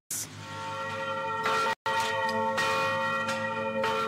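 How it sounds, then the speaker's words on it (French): Church bells ring together across Haiti at exactly noon, a loud, continuous metallic peal with overlapping strikes and a brief dropout partway through. "toutes les cloches du pays sonnent en même temps, à midi pile."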